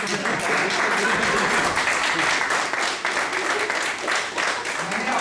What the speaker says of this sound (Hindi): भी तालियां बजाइए